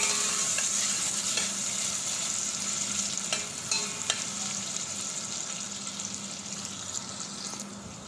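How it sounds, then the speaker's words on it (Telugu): Chillies frying in a pan of oil for mushroom biryani give a steady, close sizzle with scattered pops and stirring clicks, with no talking. "చిల్లీస్ వేయించేసుకుందామండి"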